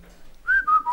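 A person whistles a short rising-then-falling phrase of two or three clear notes, close and fairly loud, lasting under a second with no talk.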